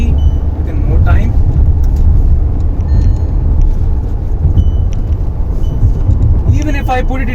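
A Volkswagen Taigun 1.0 TSI with a manual gearbox accelerates hard, its engine droning steadily from inside the cabin beneath a voice.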